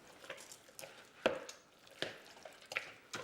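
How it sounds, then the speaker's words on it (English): Seitan flour being kneaded into dough by hand, with soft, irregular squishing and slapping pats a few per second, quiet and close, with no talk. "I knead it carefully for"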